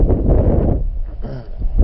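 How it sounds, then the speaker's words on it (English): Low rumbling wind buffets the microphone outdoors beside a hay bale stack while electric fence poles are planted, a steady blustery roar with brief gusts and dips. "Sorry for the wind, it's quite windy."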